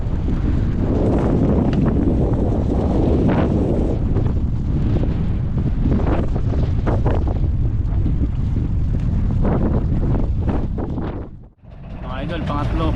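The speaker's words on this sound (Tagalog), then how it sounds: "Malakas yung hangin." Strong wind at sea buffeting the microphone aboard a small fishing boat, a constant loud roaring gust with rough water noise and brief voices underneath.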